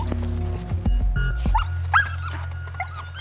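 A security guard dog during training, giving a few short barks and yips close by, followed by whimpers and softer sounds, with some faint human voice in the background.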